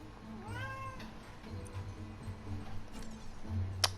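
A cat gives a few meows, with one clear rising call near the start and softer cries after it, over low background hum. No one talks.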